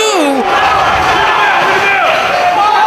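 A pro wrestling crowd at an ROH KENTA vs Bryan Danielson match roars and shouts steadily and loudly throughout, a dense wall of cheering voices with rising calls urging a fallen wrestler up.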